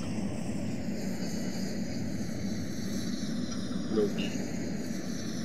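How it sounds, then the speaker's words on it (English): Soviet Concorde jet in Roblox Aeronautica taxiing toward the runway at low throttle, a steady droning engine hum throughout with a faint bump near the end, while someone speaks briefly over it. "We'll be taxiing to runway 9."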